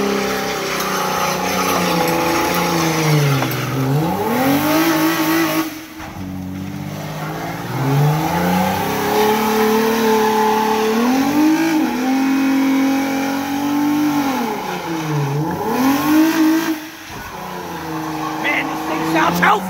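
A Nissan Maxima's engine revs hard and repeatedly for a neutral drop at a drag venue, loud and close, climbing and falling in long sweeps, with crowd noise and shouting voices underneath.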